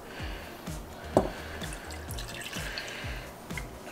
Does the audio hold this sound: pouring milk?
yes